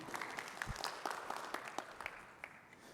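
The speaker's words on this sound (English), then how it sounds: "round of applause" Audience applause after a talk, fairly faint and scattered with individual claps standing out, continuing steadily for a few seconds in a room.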